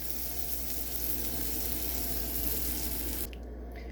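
English muffins browning in a hot pan give a steady, close sizzle that holds evenly for about three seconds and then drops away abruptly.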